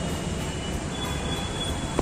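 A Delhi Metro train arrives at a station with a loud, steady rumble of wheels and a thin, high squeal on top, heard up close with no talking.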